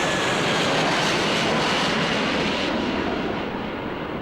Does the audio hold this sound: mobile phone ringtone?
no